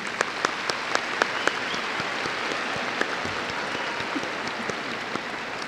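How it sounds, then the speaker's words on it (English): An audience at a 2015 FSCJ college commencement ceremony claps in a steady, sustained round of applause, with a few sharper individual claps standing out from the crowd. "Please join me in a round of applause."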